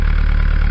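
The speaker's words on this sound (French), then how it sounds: "l'aspiration du moteur" A Bavaria 38 sailboat's engine running steadily during winterizing while drawing in water through a hose, a continuous close idling hum with low rhythmic pulsing and no voices.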